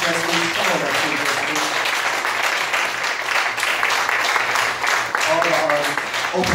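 Audience at a poetry open-mic grand finale applauding as artists come on stage, a steady sustained round of clapping with a speaker's voice briefly audible at the start and end.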